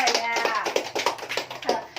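Group applause in a community health training session, brief scattered clapping from a small group heard under a voice continuing to talk.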